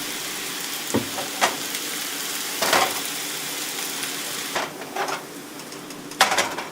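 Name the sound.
noodles frying in a pan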